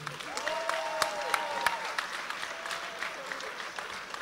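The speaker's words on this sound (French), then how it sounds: "Je voudrais qu'on applaudisse très fort Monsieur Sébastien Robinet." Steady applause fills a Luxembourg fight-night arena for fighter Sébastien Robinet, a continuous wash of clapping with a few sharper hand slaps standing out, voices faintly beneath.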